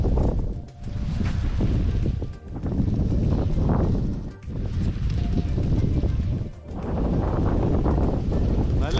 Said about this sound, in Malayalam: നല്ല അടിപൊളി കാറ്റ് ഒരു രക്ഷയില്ലാത്ത കാറ്റ്